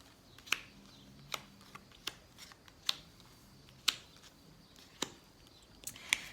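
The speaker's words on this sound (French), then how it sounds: "On va faire notre tirage en 9 cartes." Tarot cards being shuffled and laid out for a reading, heard as about a dozen quiet, sharp card snaps and taps at irregular intervals over a soft background.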